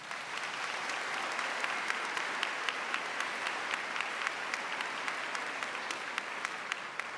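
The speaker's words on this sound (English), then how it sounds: "with a round of applause" Sustained, dense applause from a large crowd at a university College of Education spring undergraduate commencement, honoring faculty, staff, advisors and families, steady throughout with a few sharper claps standing out.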